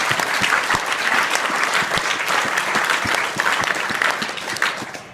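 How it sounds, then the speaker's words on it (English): An audience at an acceptance ceremony claps steadily for graduate students, dense and continuous applause filling the room without any voices standing out, holding level before easing slightly at the end. "I'd like to give a round of applause for the graduate students this time"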